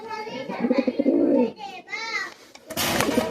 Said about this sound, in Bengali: দেখেন এটা ঠোঁট সাদা, চোখ সাদা এবং সেম কালারের এক সেট কবুতর